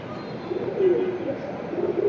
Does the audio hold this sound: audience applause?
no